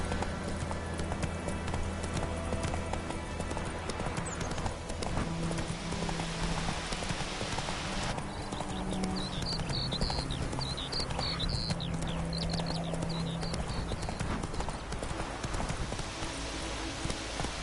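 Roach, a horse in The Witcher 3, gallops with fast clip-clopping hooves under a dense bed of game music and ambience, the hoofbeats mid-distance and partly masked.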